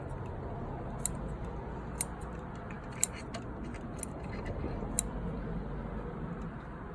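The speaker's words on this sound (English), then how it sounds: "Just going to cut away a lot of the roots." Root-cutter scissors with big handles snip through juniper bonsai roots, giving sharp, distinct clicks about once a second over a steady background hiss.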